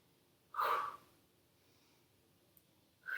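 Sharp, close breaths during a Pilates back and glutes workout: a strong inhale or snort-like breath, quiet for a couple of seconds, then another breath starting.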